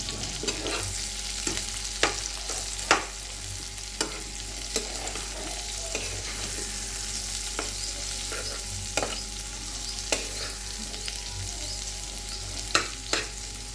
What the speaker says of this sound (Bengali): আমি এই আলুর সাথে এটা কষিয়ে দিচ্ছি